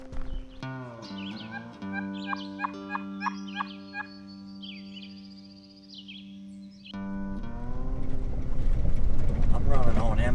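Outdoors, a wild turkey lets out a run of rapid gobbles at moderate distance over a steady low hum, while birds chirp faintly; close rustling and movement noise grows loud toward the end.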